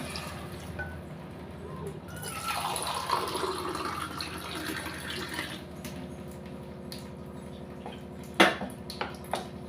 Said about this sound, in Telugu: వాటర్ అయితే యాడ్ చేసేయాలి.